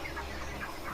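Chickens clucking inside a poultry farm housing thousands of birds, a few soft repeated clucks over a steady background hum, close by and without talk.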